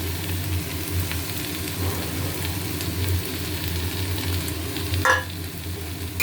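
Prawns sizzle in a hot pan, a steady close crackle of frying that runs throughout, with a brief clatter near the end and no voices.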